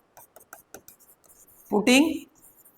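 Pen scratching out an equation by hand in a maths lesson on linear equations, a series of short, soft strokes that run for a couple of seconds and are then cut off by a brief burst of nearby talk.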